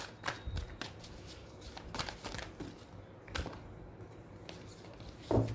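Tarot cards are shuffled up close in soft irregular bursts of riffling and slapping, with quieter pauses between and a sharper thump near the end.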